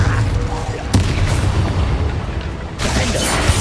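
A fire spell cast in the Hogwarts Legacy video game, heard as a booming whoosh with a sharp burst near the start and another surge later, dense and loud amid ongoing battle noise.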